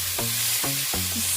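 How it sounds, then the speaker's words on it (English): Mutton for a Jamaican curry searing in hot oil, a steady close sizzle and frying hiss with a few stirring scrapes, alone without talk. "When that oil gets hot, we're going to sear our meat."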